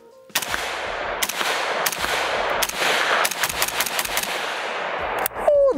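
A VZ58 rifle fires outdoors in loud, sharp bursts and single shots, about ten reports spaced irregularly with echoing tails, ending with a brief metallic clatter.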